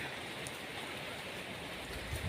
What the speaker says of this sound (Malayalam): മഴയൊക്കെ വരുന്ന പോലെയാണ്